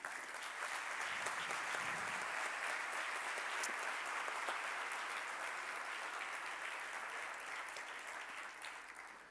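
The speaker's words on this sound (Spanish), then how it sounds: "un fuerte aplauso para él, al director del campus de Gandía," An auditorium crowd applauds the campus director at the 30th anniversary closing ceremony of the Gandia campus, with steady, sustained clapping that holds evenly and tapers slightly at the end.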